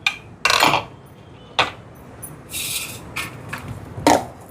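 A metal cooking pan is set on a stove to heat for tempering while chutney and idli are being made in a home kitchen. A few sharp metallic clanks and clatters ring out, separated by short pauses.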